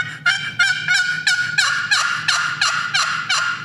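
A turkey hunting call imitates a turkey with a rapid series of about ten loud, clear yelps in a steady rhythm, close and alone.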